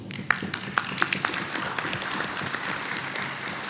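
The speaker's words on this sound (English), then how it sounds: "Really, they deserve a huge round of applause." An audience at an international Islamic capital market conference applauds the event organizers; a few sharp early claps grow into a steady, moderately loud wash of clapping from a crowd.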